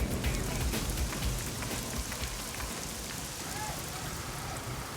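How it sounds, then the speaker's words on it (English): Heavy rain pours steadily on a house construction site, giving a dense, continuous hiss with close spatters that stays loud and even for the whole stretch, with no voices. "Then the rain comes, so we have to work with the rain, and it's coming down quite hard."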